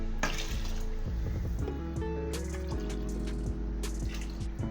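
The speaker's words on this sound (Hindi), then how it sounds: "चार गिलास इसमें चले गए पानी।" Water is poured into a pot of soaked lentils for restaurant-style dal, a steady, close, continuous liquid pour with gurgling and splashing that lasts throughout, with no talking.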